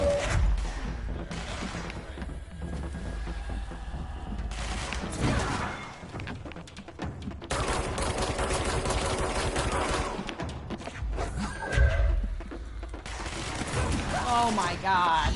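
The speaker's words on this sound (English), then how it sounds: "Where is he shooting?" Video game gunfire crackles in rapid bursts throughout, dense and loud, broken by short pauses and overlapping with a voice talking.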